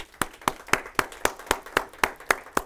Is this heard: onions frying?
no